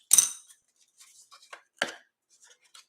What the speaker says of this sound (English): I'm going to go here where it meets that lid and I'm going to cut it a diagonal.